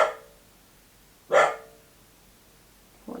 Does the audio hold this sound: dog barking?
yes